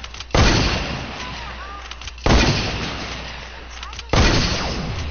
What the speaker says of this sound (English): I'm gonna use a heavy shotgun.